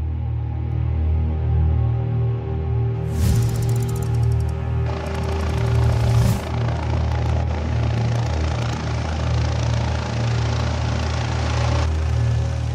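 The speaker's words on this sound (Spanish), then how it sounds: "el helicóptero medicalizado de Osakidetza está aterrizando." A medical emergency helicopter of the Basque health service lands at Galdakao hospital, its rotor producing a loud, steady, close drone throughout, with rougher bursts of broadband wash partway through.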